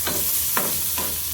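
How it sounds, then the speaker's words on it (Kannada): Hot oil tempering of curry leaves, chopped onion and mustard seeds in a pan, a steady close sizzle broken by a few soft stirring scrapes of a spoon. "ಸ್ವಲ್ಪ ಆಯಿಲು, ಸ್ವಲ್ಪ ಕರಿಬೇವು ಸೊಪ್ಪು, ಆನಿಯನ್ನು, ಸಾಸಿವೆ ಎಲ್ಲ ಹಾಕ್ಕೊಂಡು ಚೆನ್ನಾಗಿ ಫ್ರೈ ಮಾಡ್ಕೊತೀನಿ"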